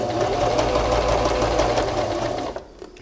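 A Janome Arctic Crystal sewing machine stitching straight down fabric toward a corner, a loud continuous motor hum and rapid needle chatter that stops abruptly near the end, with no talk.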